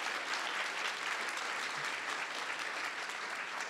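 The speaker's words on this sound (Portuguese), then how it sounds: "Por favor, uma salva de palmas aqui." Audience applause greets a jury introduction at a Brazilian hackathon event, a steady wash of clapping from many hands, fairly faint and even throughout with no speech.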